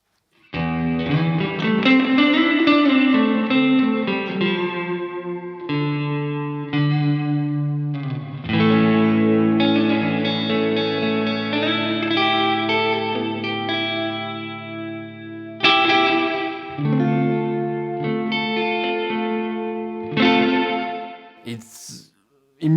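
A Cornerstone Nucleo guitar pedal's room reverb sets a lush, blended tail around sustained guitar chords and notes, each phrase ringing and fading into the next with a short squeal near the end.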